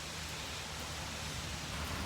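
Steady rain shower pouring during a severe thunderstorm at night in Fayetteville, Georgia, a continuous even hiss of fairly faint, distant-sounding rainfall with no voices.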